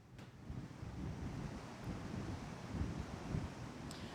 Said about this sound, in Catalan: aquest fort vent de llevant que bufa aquí ben fort i que deixa pràcticament buit aquest passeig marítim